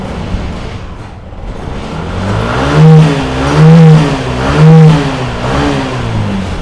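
A Yamaha Aerox/NMAX scooter with a YECVT fault that won't shift, its engine revved hard in three rising surges, each peaking and easing back to a steady idle-like drone, close and loud with no talking.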